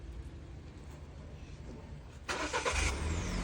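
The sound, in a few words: car engine starting by remote start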